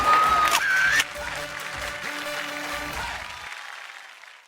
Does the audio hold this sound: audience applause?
yes